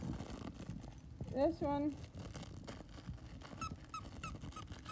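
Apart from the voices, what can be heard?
squeaky dog toy squeaking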